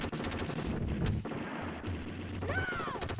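Rapid machine-gun bursts from the Terminator 2 arcade game, dense rattling gunfire with a rising electronic whine near the end, loud and continuous over game sound effects.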